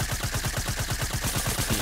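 Automatic weapon fire in Fortnite's Creative mode rattles in a rapid, steady stream of close, loud shots with no pauses and no talk.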